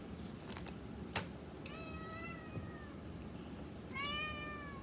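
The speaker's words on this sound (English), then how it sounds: "I don't know if the camera picked up that meow" Cat meowing indoors, two drawn-out meows a couple of seconds apart, faint against a quiet room hum, with a few light taps before them.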